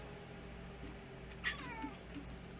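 A pet cat lets out one short, soft meow followed by a fainter trailing chirp, quiet and close in a calm room with low background hum.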